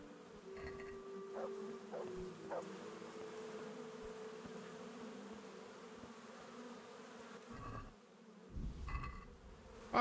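Bees buzz steadily in a video game, a low droning hum near the listener with a few rising tonal blips and soft game sounds toward the end.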